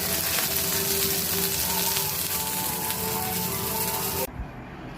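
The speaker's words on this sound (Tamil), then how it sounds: "அடுத்த மீன் வறுக்க போகிறாங்க." Fish frying in a pan at Kasimedu beach, a steady dense sizzle with crackling spatter held at an even level, cutting off abruptly near the end.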